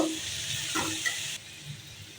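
Vegetables seasoned with turmeric, salt and green chilies hiss and sizzle softly in a pan, with a couple of brief stirring scrapes over the quiet, close frying sound.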